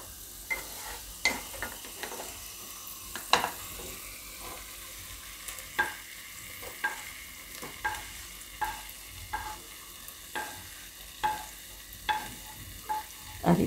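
Potatoes are stirred into a pan of mixed vegetables for a Gujarati shaak, with evenly spaced scraping strokes of a spoon over a faint sizzle, close and unaccompanied by talk.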